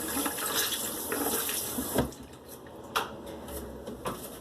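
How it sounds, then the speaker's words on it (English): Water runs from a tap into a sink to wet a makeup sponge. It makes a close, continuous splashing rush, with a few knocks and splashes as the sponge moves under the stream. "Now they said it works better wet, so we're gonna wet our sponge"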